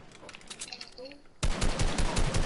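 Video game gunfire breaks out abruptly partway through as a loud, rapid automatic burst, preceded by quieter game sounds and a voice in the background.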